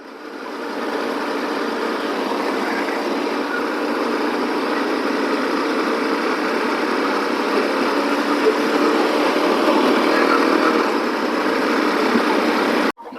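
Royal Enfield Bullet motorcycle on a Kargil-to-Ladakh ride, heard as a loud, steady engine drone that holds unbroken for several seconds and cuts off abruptly near the end.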